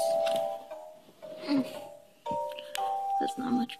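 Short electronic notification chime tones in a video game ring out twice, each a brief two-note beep, with a person talking between them.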